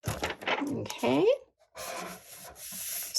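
Adhesive backing paper rubbing and scraping loudly across a photo album, coarse bursts close to the microphone, with a person talking over the first part.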